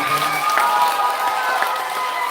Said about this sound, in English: Let's give them a round of applause for doing amazing things.